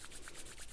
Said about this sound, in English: And rub it in your palms,